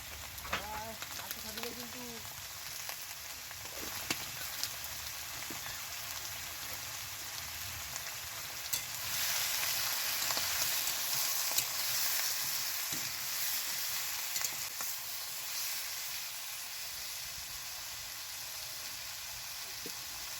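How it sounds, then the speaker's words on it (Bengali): Chopped tomatoes fry in oil with salt and turmeric in a steady, moderately loud sizzle. It swells for a stretch midway, with a short voice early on and occasional light clicks of stirring. "এটাকে ভালো করে কষতে থাকবো তেলের সাথে"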